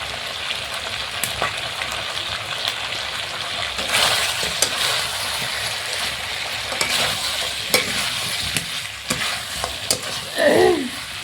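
Raw onion drops into a pan of frying taro and meat curry, raising a steady sizzle with bursts of spatula stirring and scraping, fairly close and alone, with a brief clatter near the end.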